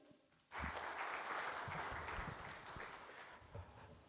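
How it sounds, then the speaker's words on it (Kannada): A conference audience breaks into applause at a state-level Kannada human resources professionals' meeting, a sudden onset of dense, steady clapping that carries on evenly, heard from a distance and fairly faint. "ಬರಲಿ ಚಪ್ಪಾಳೆ"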